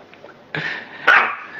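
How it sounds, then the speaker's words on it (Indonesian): A pet dog barks indoors, two sharp barks close by in an otherwise quiet room. "Ntar kalau dia gonggong lagi gue keluarin deh."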